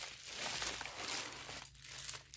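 A blade slices through tape stuck on the camshaft of a 1NZ-FE engine, giving faint, close crinkling and tearing that lasts a couple of seconds, soft and dry with brief pauses.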